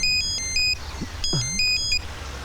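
A telephone ringtone plays in short electronic melodic bursts, two clear phrases separated by a pause, with a faint voice-like sound in the middle.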